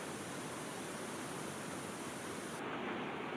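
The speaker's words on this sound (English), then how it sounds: "We waited for the lifting mist to reveal a stunning waterfall." A stunning waterfall in Bhutan, dropping below the Nganglam road in misty forest, gives a steady, dense roar of falling water that stays constant throughout with no voices.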